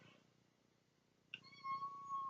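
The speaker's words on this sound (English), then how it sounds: "the shadow meowing because she wants out" A cat named Shadow lets out one drawn-out, fairly close meow, rising sharply and then holding a clear tone, wanting to be let outside, after a quiet room hush.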